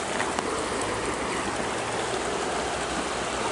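Water in a river rushing and burbling steadily, a dense, continuous broadband wash that stays loud and close throughout with no voices.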